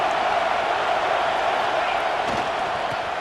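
In EA Sports College Football 26, a stadium crowd keeps up a steady, dense roar through a football game, loud and unbroken from start to finish.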